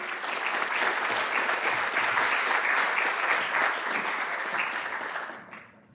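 Sustained audience applause welcoming a lecturer onto the stage, a steady dense wash of clapping that holds evenly, then tapers off in the final second.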